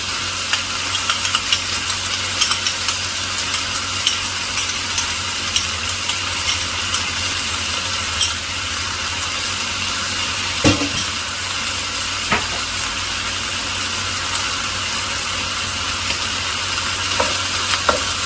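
Chicken spring roll filling stir-fried with soy sauce and ketchup, a steady close sizzle and hiss throughout with occasional clinks of a spatula against the pan.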